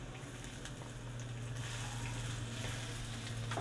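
Garlic frying in a pan alongside ginger, a steady, moderately quiet sizzle that builds slightly in intensity and carries on without pause and without talking.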